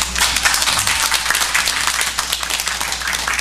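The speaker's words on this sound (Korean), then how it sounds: "우리 박수로 환영할까요?" Congregation at a church service applauds to welcome two newcomers, a dense, steady burst of many hands clapping at close range throughout, with no talk over it.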